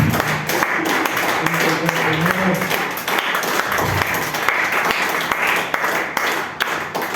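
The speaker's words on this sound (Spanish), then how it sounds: "Denle una ofrenda de palmas al Señor." A church congregation at a Spanish-language service claps steadily together, a dense continuous patter of many hands filling the room with no voices standing out.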